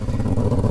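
A motorcycle engine drones low and steady while the bike rides through a river, a brief rumbling burst up close.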